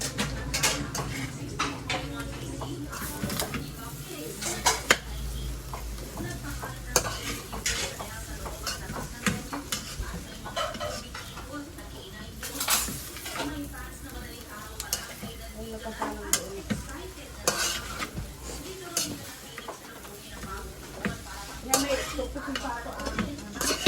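Tuna sisig being stirred in a pan, with steady scraping of a utensil against the pan and faint sizzling throughout, plus occasional metallic clinks and light voices in the background.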